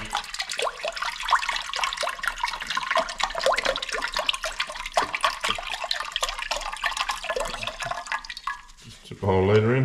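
A litre of beef stock splashes and gurgles into a slow cooker for a brisket, a steady close pour that ends with a brief louder noise.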